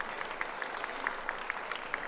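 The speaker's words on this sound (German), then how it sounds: "Applaus gibt's vom Publikum." An audience at a marketing award ceremony for direct farm sales applauds, a faint, steady patter of clapping with scattered sharper claps and no talk.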